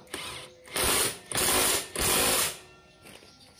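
An impact wrench tightens a 19 mm nut on a Honda automatic scooter engine, firing three loud, close, whirring hammering bursts of roughly half a second each in quick succession, no talk.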